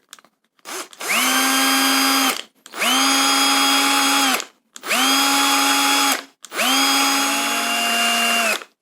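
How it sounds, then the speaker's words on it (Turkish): A cordless drill with a 1 cm bit widens a hole in four long whirring bursts of about one and a half seconds each, separated by short pauses, spinning up and winding down each time. "Şarjlı matkabımla ucu 1 santim olan matkap ucunu taktım ve içini genişletiyorum."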